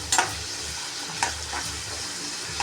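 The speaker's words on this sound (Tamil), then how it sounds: "பாருங்க, நல்லா வதங்கிச்சு." Egg aviyal ingredients stirred and sautéed in a pan, with a steady frying sizzle and a few sharp scraping strokes of the spoon around the first and second marks, no voices over it.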